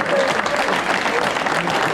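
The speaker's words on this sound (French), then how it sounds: "Encore une fois, on peut les applaudir." An audience at a live stage show applauds the performers, a dense, steady wash of clapping with faint crowd murmur, sustained throughout at moderate loudness.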